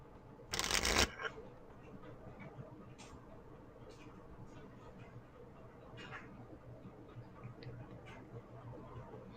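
A deck of cards is shuffled once in a quick, crisp riffle near the start, followed by faint clicks and low room noise with no talking.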